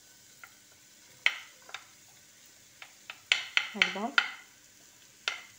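Onions fry in a small amount of oil in a pan for a savory crepe filling, with a soft sizzle under scattered stirring clicks and scrapes. A voice briefly speaks a single word.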